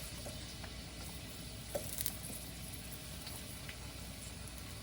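Onion sizzles steadily in a hot wok for a cabbage and green bean stir fry. The frying is faint, with a continuous hiss and a few small crackles and clinks near the middle.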